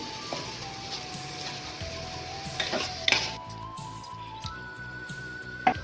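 Soaked rice tipped into masala frying in a pan for tomato rice bath, giving a steady close sizzle with a few soft scraping and clinking touches of utensil on metal.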